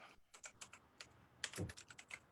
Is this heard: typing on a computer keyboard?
yes